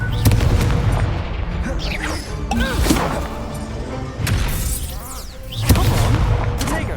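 Booming blasts and thuds from the Confringo spell in a wizard video game ring out repeatedly amid battle effects, loud and close, with a player shouting the spell names over them.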